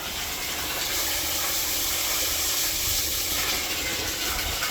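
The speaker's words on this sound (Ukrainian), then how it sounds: "Звідси забирає е, воду і туди наверх по шлангу, як бачимо, йде назад вода" Water pumped back up through a hose and circulating, making a steady, loud gushing hiss with no pauses or changes over the few seconds.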